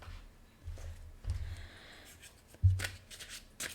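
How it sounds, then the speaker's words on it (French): Tarot cards being shuffled by hand make soft riffling and sliding rustles in short bursts, close and fairly quiet, with a few taps between them. "je suis en train de tout mélanger mes cartes"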